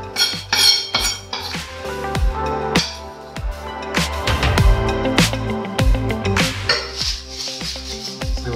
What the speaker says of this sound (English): We're just going to stir the melted cocoa butter